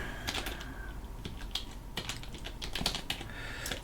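Fingers type on a computer keyboard at a Linux desktop, irregular close clicks and clacks in quick bursts with short pauses, no speech.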